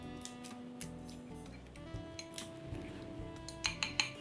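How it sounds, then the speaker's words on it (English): Eggs and cream whisked gently in a bowl for a quiche custard, with light rhythmic ticking and clinking of the whisk against the bowl, quiet and close, a few sharper clinks near the end. "a gentle whisking to break up the eggs"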